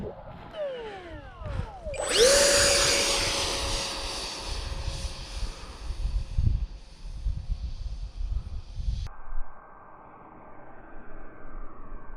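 A small RC model airplane engine whines near the ground, rising sharply to a loud, steady high-pitched drone that holds for several seconds and then cuts off abruptly. A lower rumble of handling noise continues afterward, with no talking.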